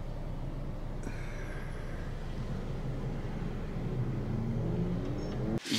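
A car drives along a road on the way home, heard from inside as a steady, even low rumble of road and engine noise, closing with a sudden bump or thud, with no one talking.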